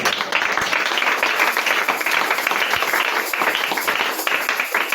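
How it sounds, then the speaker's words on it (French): A church congregation claps and applauds in a dense, continuous crackle of many hands, sustained and fairly loud for the whole stretch, with no clear talk over it. "Donnons-lui encore les acclamations"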